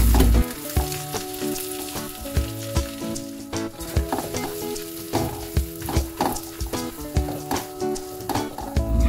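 Butter melting into hot oil with sautéed garlic in a pan for buttered garlic crab, a bright continuous sizzle and crackle punctuated by stirring scrapes and clinks of a utensil against the pan, no voices.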